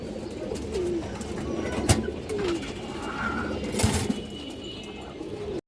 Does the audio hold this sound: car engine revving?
no